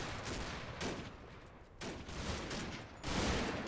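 Sustained battlefield gunfire from the Combat Mission wargame set in the Normandy hedgerows, a dense continuous fusillade of rifle and machine-gun shots with heavier bursts swelling near the start, middle and end.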